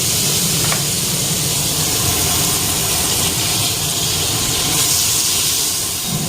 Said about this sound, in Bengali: এবার কাঁচকলাটা দিয়ে দেবো দিয়ে একটু ভাজা ভাজা করব